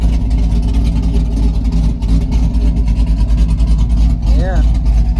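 Corvette engine running on a dyno, a loud steady idle rumble throughout with a brief rising whine near the end, under a voice talking.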